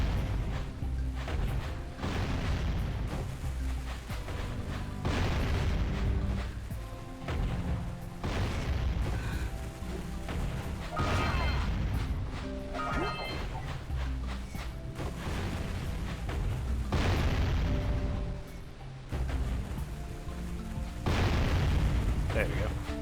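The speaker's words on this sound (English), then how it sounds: "Let's have this cannon do the work for us." A cannon fires repeatedly in Jak & Daxter: The Precursor Legacy, its heavy booms and blasts landing at irregular intervals over a dense game soundscape, with occasional character voices.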